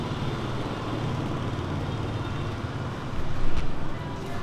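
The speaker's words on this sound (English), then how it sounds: "we definitely do have some street noise, cars going by and stuff like that" Steady street noise from passing cars forms a low rumbling traffic bed, with one vehicle swelling louder and closer near the end.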